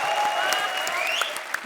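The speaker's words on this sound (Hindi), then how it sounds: "ठोको ताली" Studio audience on a televised Hindi comedy show bursts into loud, continuous applause that holds steady throughout, with a few sharper claps and faint whistles rising above the crowd.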